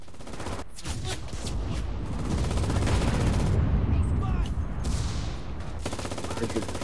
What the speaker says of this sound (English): someone with a big gun is shooting at me